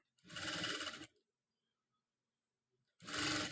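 A sewing machine stitches a blouse sleeve in two loud, steady bursts, the first about a second long and the second starting after a two-second pause, with near silence between them.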